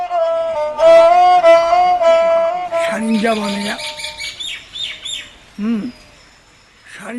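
A 30-string sarinda imitates bird calls with warbling, chirping phrases that rise and fall, interrupted by short bursts of other sound and brief pauses.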